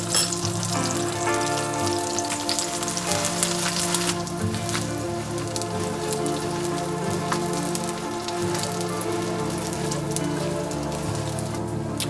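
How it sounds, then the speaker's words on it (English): Meat stir-fries quickly in hot oil for chow mein, a loud, dense sizzle crackling nonstop at close range, with occasional scrapes and tosses in the pan and no talking. "而家炒少少嗰啲肉，炒佢啱佢香，應該好快，唔使炒好耐。"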